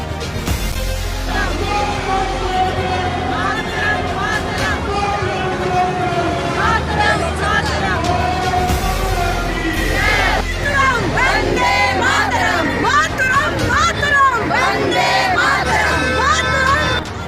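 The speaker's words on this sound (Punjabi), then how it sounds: "ਵੰਦੇ ਮਾਤਰਮ ਅਤੇ ਭਾਰਤ ਮਾਤਾ ਕੀ ਜੈ ਦੇ ਜੈਕਾਰਿਆਂ ਨਾਲ ਗੂੰਜਿਆ ਸ਼ਹਿਰ" A large city crowd at a tricolour rally backing Operation Sindoor chants Vande Mataram and Bharat Mata Ki Jai, a loud, continuous, rhythmic roar of many voices that fills the whole stretch.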